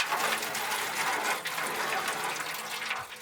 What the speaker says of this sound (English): Just listen to all the nasty water that came out.